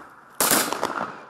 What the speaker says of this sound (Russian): В 11 часов тишину на Соборной горе нарушают звуки выстрелов. Залпы звучат в честь памятной даты.